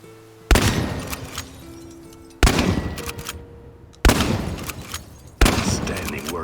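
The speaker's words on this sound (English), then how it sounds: "The shotgun has considerable spread" Shotgun firing in a video game, four loud booming blasts spaced one to two seconds apart, each followed by a rumbling decay over a low background hum.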